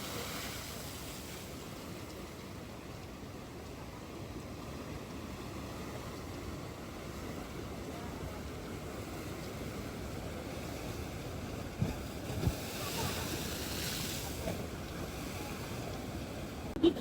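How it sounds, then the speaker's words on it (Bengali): Rough sea waves at Cox's Bazar surge in a continuous broad roar, with wind buffeting the microphone and a few louder knocks toward the end. "এই যে দেখেন সমুদ্র কি পরিমাণ উত্তাল।"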